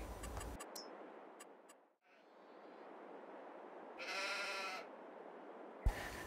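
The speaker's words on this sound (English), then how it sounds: "We've got 60 sheep in each pen." Sheep in a pen in Farming Simulator bleat once, a single fairly clear bleat against a faint ambient game background with a few light ticks.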